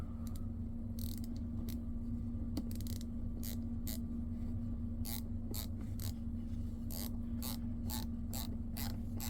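A ratcheting screwdriver with a slotted bit drives a screw into wood, giving a series of sharp, close ratchet clicks in irregular bursts over a steady low hum, no talking.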